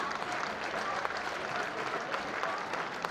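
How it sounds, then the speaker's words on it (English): Football supporters in the main stand at an Ebbsfleet United versus Dover Athletic match applaud a player walking past, a steady distant ripple of clapping from a crowd. "Kieran Monlouis receives applause as he walks in front of the main stand"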